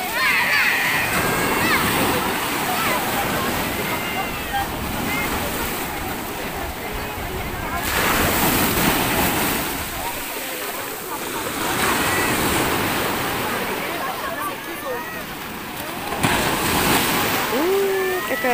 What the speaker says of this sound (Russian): мы небольшие волночки